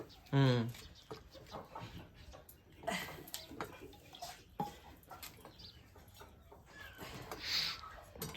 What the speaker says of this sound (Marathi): कोंबडी पण लय ओरडत्यात